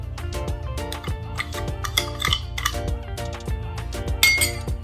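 A spoon clinks rapidly against a bowl while sugar and lip tint are stirred together for a homemade lip scrub, close and bright, with irregular metallic taps and scraping and no talking.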